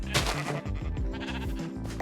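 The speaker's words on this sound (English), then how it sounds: "I think this sheep's supposed to be in the thing." Sheep bleating in the Create Colonies video game, several overlapping bleats in a busy, continuous run over game sounds, fairly loud throughout.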